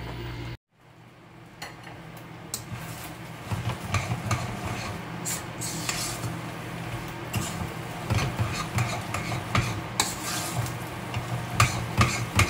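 Spaghetti sauce with tomato sauce, garlic and onion cooks in a pan, giving a continuous sizzle under repeated scraping and stirring clatter that grows busier after a brief silent gap at the start.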